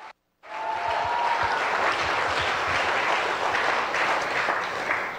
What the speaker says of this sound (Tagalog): Napakahina yung palakpak nyo, napakahina yung sigaw mo.